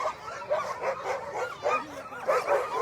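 A sled dog team at the start of the Willow 300 mid-distance race barks and yips excitedly in rapid, overlapping bursts, a close and continuous chorus of eager whining and barking.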